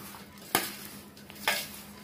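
Spoon stirring spice masala through mango pieces for a Gujarati sweet mango pickle, giving two distinct scraping clatters about a second apart against a faint steady background, with no talking.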